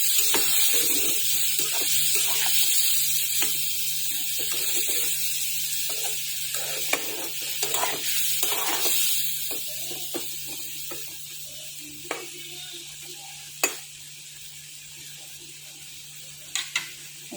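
Water is poured into a hot cooking pan, where a steady sizzle and bubbling run throughout, broken by occasional sharp clicks and clatters of utensils.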